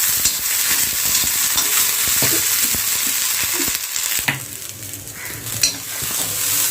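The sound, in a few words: frying garlic, green chillies and peas in a pan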